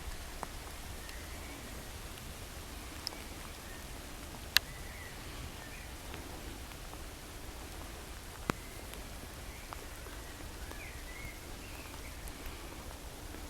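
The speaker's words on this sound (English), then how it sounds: "You can hear the rain on the leaves." Light rain patters on leaves in a Kent wood in May, a soft continuous hiss with a few sharper isolated drips, faint and even throughout.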